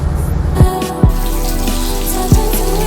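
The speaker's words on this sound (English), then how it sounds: "I will be having a peroxide wash for my feet to remove all the germs and grime that my feet has gone through in the water." Water runs steadily from a tap for a peroxide foot wash, a loud, close, continuous splashing flow broken by a few sharp drip-like plops.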